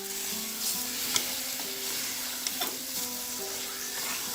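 Masala for nalli nihari fries in a pot while a spoon stirs it, with a constant close sizzle broken by occasional scrapes and clinks of the spoon against the metal.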